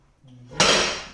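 A kitchen cabinet drawer with Blum fittings in an anthracite and gold craft oak corner kitchen slides and shuts with one sharp clattering knock of metal and wood, close and fairly loud, after a soft rolling lead-in.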